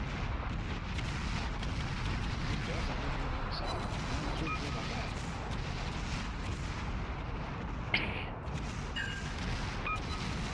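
Warship guns fire salvos during a World of Warships match, making a steady, dense rumble of distant booms with a few sharper reports, set against continuous game noise.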